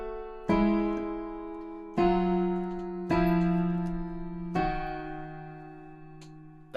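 A piano left hand plays parallel major sevenths, four struck chords at a steady, deliberate pace, each ringing out and decaying before the next, close and clear with no speech.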